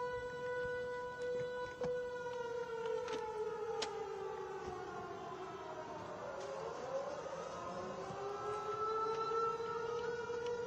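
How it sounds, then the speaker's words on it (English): Air raid sirens wail in the distance, several rising and falling tones overlapping across a long stretch, faint and steady against background ambience with no speech. "We were able to hear the air raid sirens."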